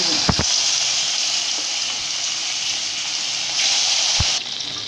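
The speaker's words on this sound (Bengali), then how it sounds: "এটা এখন মাছ ভাজবো তেল গরম করছি তেল দিয়েছি আমি চুলায় মাছটা" Koi fish fry in hot oil on a stove, filling the clip with a loud, continuous close-up sizzle and a few soft knocks.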